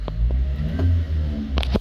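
A Subaru Sambar mini truck's small engine idles with a low rumble that swells into a brief rev, heard close up alongside faint rustling and clicks.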